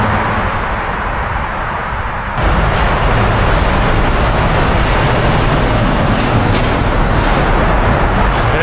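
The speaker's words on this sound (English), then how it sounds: "it's just so loud whenever a car passes" A car passes through a road tunnel on the Karakoram Highway in Xinjiang, heard from a bicycle: a quieter rumble suddenly jumps into a loud, steady, echoing roar that fills the rest of the moment.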